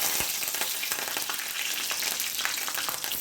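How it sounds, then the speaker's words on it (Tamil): Mustard seeds and cumin splutter in hot oil while a brinjal gravy is being made, a steady loud sizzle with rapid crackling pops throughout, no voices. "கொஞ்சமாக கடுகு சேர்த்துடலாம் கொஞ்சமாக சீரகமும் சேர்த்துக்கலாம் சேர்த்து இதெல்லாம் பொறிஞ்சி வந்ததும் கருவேப்பிலை சேர்த்துடலாம்"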